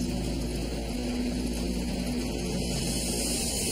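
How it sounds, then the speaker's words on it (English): A fire department helicopter in flight gives a steady, loud, continuous rotor and engine drone with no pauses, heard alone without speech. "With this one-of-a-kind helicopter, the fire department finally has a way to fight high-rise fires."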